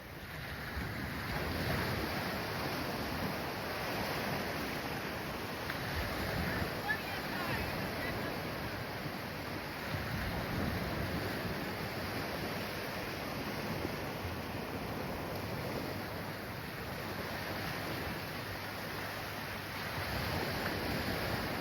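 Waves wash onto the beach at Honeymoon Island beneath steady wind buffeting the microphone, a continuous broad rushing roar with gentle swells, close and fairly loud, without clear talk.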